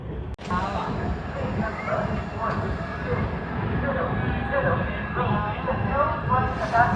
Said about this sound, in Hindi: सामने जो ट्रेन देख रहे हैं वो लखनऊ से न्यू दिल्ली शताब्दी एक्सप्रेस है, जो कि प्लेटफॉर्म नंबर 1 पे लग रही है